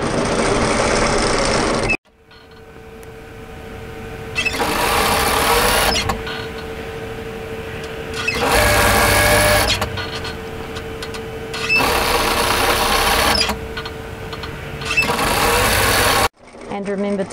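A sewing machine stitches a cami top in several loud bursts of steady whirring, separated by quieter pauses with a faint hum, and the bursts are fairly close.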